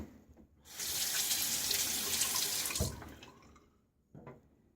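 Water gushes from a bathroom tap for about two seconds, a close, steady splashing rinse after a shave, then stops, followed by a faint drip or brief trickle.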